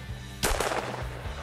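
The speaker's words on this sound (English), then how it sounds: "Great shot, Ross." A single sharp gunshot from a bobwhite quail hunt in Georgia cracks loudly outdoors, followed by a brief echoing tail; no talking.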